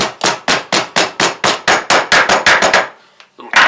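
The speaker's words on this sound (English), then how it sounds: "Just take your hammer." A steel hammer taps a pin into a flat belt lacing joint in a workshop, striking about a dozen quick, sharp, evenly spaced blows close up, then pausing before one last hit.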